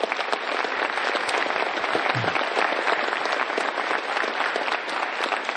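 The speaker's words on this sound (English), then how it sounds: "So give all of those guests a round of applause." A crowd at a high school event applauds steadily, dense clapping holding at an even level the whole time, with no voices standing out.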